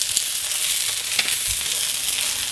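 Garlic sizzling and frying in a hot pan for egg fried rice, a steady bright crackle with faint stirring, close and continuous.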